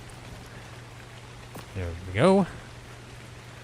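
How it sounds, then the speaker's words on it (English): Steady rain hisses in the video game ARK: Survival Ascended, Scorched Earth map, a constant soft wash of drops that continues beneath a short spoken remark. "And it's raining."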